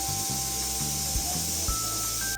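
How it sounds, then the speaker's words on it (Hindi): A pressure cooker of chickpeas on a gas stove lets off steam in a steady, loud hiss, with faint thin tones riding over a low rumble throughout. "फिर ढक्कन लगाकर गैस पर चढ़ा देंगे। छोले में 4 सीटी आने देंगे।"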